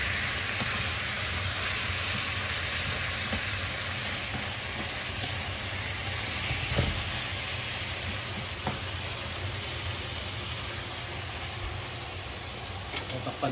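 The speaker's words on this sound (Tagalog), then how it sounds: "So, kumukulo na." Chicken simmering in a covered pot for Filipino mekus mekus, giving a steady, continuous bubbling hiss with occasional soft knocks and stirring clatters, fairly close and without speech.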